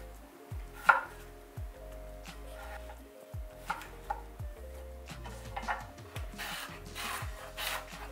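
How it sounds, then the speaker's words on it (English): Ginger slices on a mandoline with a steady run of crisp scraping strokes and light knocks, each pass rasping across the blade, close by and with no talk. "Ginger as well, which we're gonna again slice in the mandolin."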